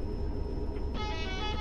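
A truck horn in Euro Truck Simulator 2 gives one short blast lasting just over half a second, sounding over a steady low engine rumble.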